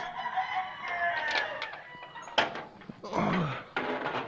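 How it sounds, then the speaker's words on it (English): A rooster crows loudly and insistently at close range, its drawn-out calls rising and breaking over a quiet outdoor background, with a few knocks and shuffling sounds between the calls. "Rooster's going crazy already."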